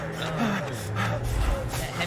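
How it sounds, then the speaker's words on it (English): Heavy, ragged breathing from a horror game trailer, a few close, gasping breaths layered over low rumbling tones, with a distant engine-like swell underneath. "That heavy breathing in my ears."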